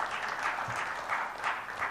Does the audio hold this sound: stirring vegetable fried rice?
no